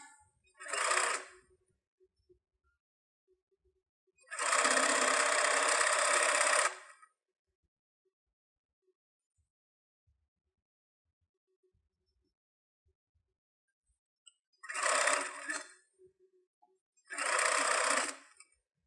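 A sewing machine stitches a cloth N95 mask cover in four separate bursts, short and longer runs of rapid whirring separated by quiet pauses, close and fairly loud.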